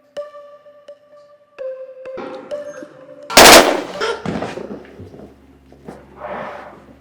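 A single loud gunshot cracks out in a tense drama scene after a stretch of quiet tonal music, followed by a brief rumbling aftermath and softer sounds.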